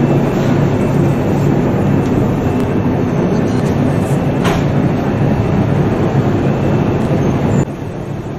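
A loud, steady motor ship engine drone with a deep rumbling hum, cruising at about 22 km/h on a river, runs throughout, continuous and close, dropping slightly in level just before the end.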